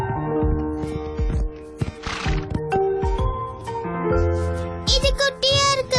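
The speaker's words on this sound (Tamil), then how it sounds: "ஆனா இது ரொம்ப நல்ல குதிரை." A pony named Dash whinnies loudly in an animated Barbie film, a high wavering neigh rising toward the end over a busy bed of music and other sounds.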